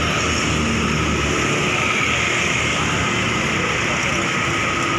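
An MPM Tomboy V53 Executive Plus bus, departing from Padang, passes with a steady, loud broadband engine and road roar that holds evenly for the whole stretch, with no clear voices.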